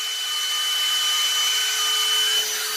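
A small G-Force fan runs steadily nearby, a continuous breathy whoosh of moving air with a faint tonal whine, unbroken and without talk.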